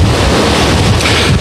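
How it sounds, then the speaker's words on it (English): Strong hurricane wind gusts batter an open microphone on the East Coast at Vero Beach, Florida, a loud, continuous roaring buffet that fills the whole clip with no talk. "Right now we're seeing gusts of winds up to 55 miles per hour."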